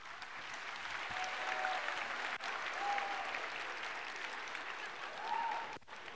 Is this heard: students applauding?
yes